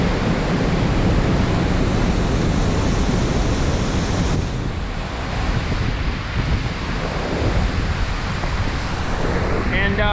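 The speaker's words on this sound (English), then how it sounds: "I got this roaring fall behind us and it is crazy" A loud, continuous roar of a waterfall fills the whole stretch, dense and close, in pouring rain, with wind buffeting the microphone throughout.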